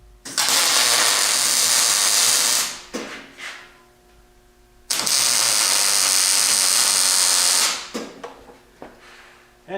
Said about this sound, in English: you watch your eyes here now because I'm going to go welding